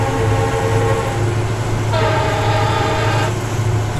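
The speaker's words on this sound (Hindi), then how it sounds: "और हम लोग हॉर्न बजा देते हैं यहाँ से।" A WDG4D diesel locomotive horn sounds in the Railworks train simulator during night running, a steady tonal blast of over a second riding over continuous loud engine and rail rumble.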